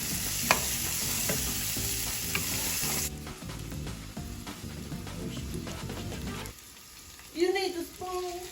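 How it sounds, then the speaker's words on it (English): Food being stirred in a pan while making a Chipotle-style bowl at home, with a steady sizzling frying hiss and scraping strokes, nearby and fairly loud, ending with a brief quieter stretch and a few clinks. "Alright, we stirring this right now."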